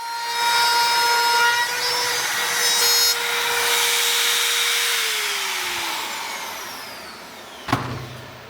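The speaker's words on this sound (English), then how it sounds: "I'm using my router to cut these keyhole slots" A router cuts keyhole slots into wooden corner shelves, its steady high whine running close and loud, then winding down in pitch toward the end, followed by a brief knock.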